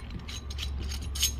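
Metal bolt being backed out of a sniper holster mount for a narrow boat gunwale, giving a short, steady mechanical ratcheting and grinding with faint clicks, close and fairly quiet throughout.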